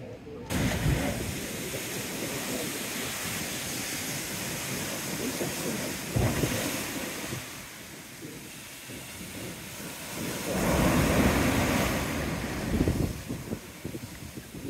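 Loud broadband roar of wind and crashing surf after Storm Babet, surging and easing in waves, with gusty rumble buffeting throughout.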